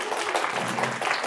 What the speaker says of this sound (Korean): 마지막으로는 박수 한번 쳐줘야죠